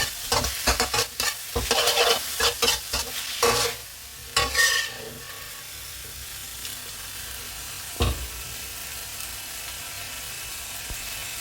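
Chinese kale stir-fried with salted fish in a pan gives a loud run of rapid spatula clatters and scrapes over a constant sizzle. The clatters thin out to a softer fry with one more scrape near the end.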